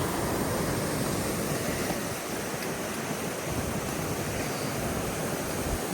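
Steady, dense rush of falling water from a waterfall at Frankenmuth, continuous and fairly loud throughout, with no voices over it.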